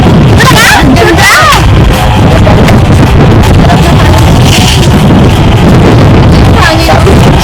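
Strong gusts of wind buffet the microphone throughout, a loud continuous roar with voices talking faintly in the background.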